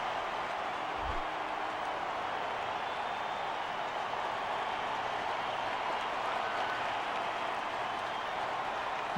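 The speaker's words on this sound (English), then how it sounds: "Crowd is coming to life here in the bottom of the third." Crowd noise in a baseball stadium in MLB 11: The Show, a broad steady roar and murmur of cheering that holds evenly throughout, with no clear individual voices.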